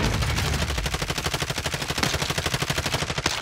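Rapid automatic gunfire from a Warzone match with an XM4 submachine gun loadout, a steady stream of loud, close shots running the whole way through without pause.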